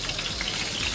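Whole cumin seeds sizzling in hot mustard oil in a pan, giving a short, dense crackle and hiss up close, alone without talk.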